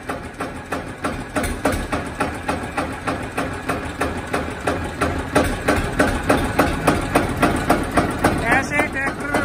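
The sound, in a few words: tractor engine idling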